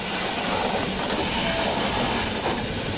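Restored Horwich Works steam locomotive running on rails, a dense steady rumble of wheels and carriage noise with a hissy wash, continuous and fairly loud throughout.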